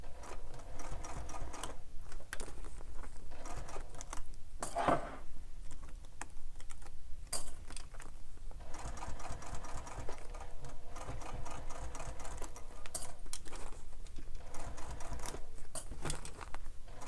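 A sewing machine back stitches the lining of a bag in rapid, steady mechanical bursts with brief pauses between runs, close and clear with no talking.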